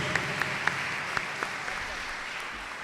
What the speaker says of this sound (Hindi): एक बार भरपूर तालियों के साथ इनका शुक्रिया अदा करें